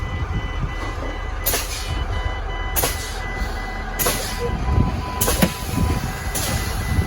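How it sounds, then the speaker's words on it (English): Air brakes on a truck pumped repeatedly during an in-cab brake test until the spring brakes pop out, giving loud recurring bursts of air hiss against a constant low engine rumble inside the cab. "I will be pumping my service brake until my pop-out occurs"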